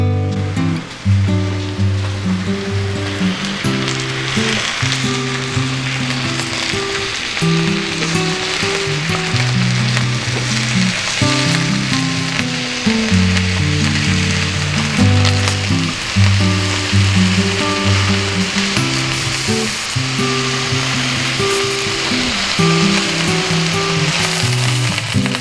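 Cabbage wedges seasoned with salt and pepper fry in a hot pan beside ground beef, giving a loud, steady sizzle that crackles continuously with no pause and no talking.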